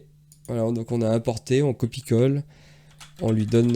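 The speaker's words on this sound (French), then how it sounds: "Désolé pour le bruit du clavier." Computer keyboard typing, a run of quick key clicks while someone talks in French over it throughout.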